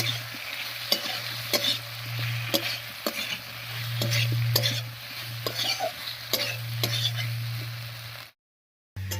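Ground spice paste with green chili and ginger sizzles as it is stir-fried with potatoes in a pan for a pumpkin-greens dish. A spatula scrapes and stirs in repeated strokes over a constant frying hiss, close up, with a brief cutout near the end.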